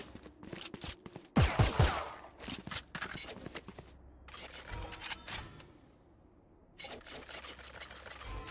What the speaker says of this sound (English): shots being fired all across Ascent